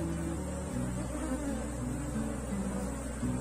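Honey bees swarming around an opened hive during a colony split, producing a dense, continuous close buzzing drone with a steady loud hum and no talk.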